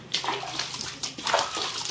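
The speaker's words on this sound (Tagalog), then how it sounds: "Jesse, buhusan ko pa ng may sabon" Soapy water poured and splashed across a floor during cleaning, a run of close, uneven sloshing gushes with brief pauses between them.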